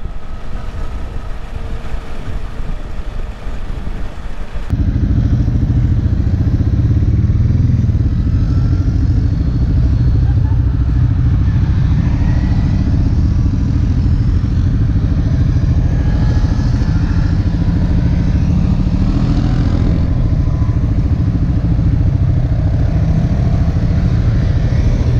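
Off-road buggy driving through the Agafay desert near Marrakech at about 30 km/h, a loud steady engine drone with rattling clatter that kicks in after a few seconds of quieter rumble and continues throughout.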